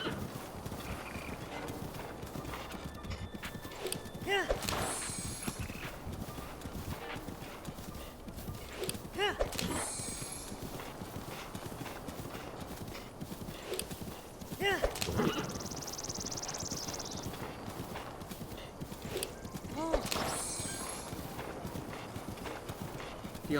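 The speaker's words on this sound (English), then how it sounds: "Finally can use my horse again." Horse hooves clip-clop steadily while riding in a Zelda video game, a rhythmic walking gait with louder accents every few seconds over ambient game sound and music.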